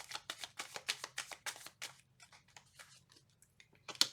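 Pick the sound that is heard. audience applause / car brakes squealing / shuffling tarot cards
shuffling tarot cards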